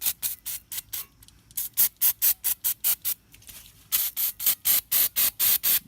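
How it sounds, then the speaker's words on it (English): Brake cleaner sprayed in a rapid series of short, loud, hissing bursts onto the inside of a brake rotor on a 2005-2009 Subaru Outback. The bursts come in steady rhythmic pulses, with a brief pause partway through. "So make sure to spray off the inside here."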